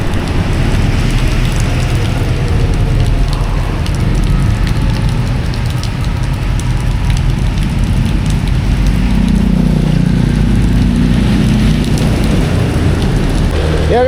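Heavy rain falling in Curug, Indonesia, a loud, dense, continuous roar of downpour on surfaces throughout, with no voices.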